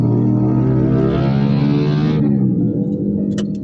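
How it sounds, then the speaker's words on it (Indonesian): A motorbike passes close by on a street, its loud, droning engine tone holding steady for about two seconds before quickly dropping away to a fainter rumble. "Sorry ada suara motor teman-teman."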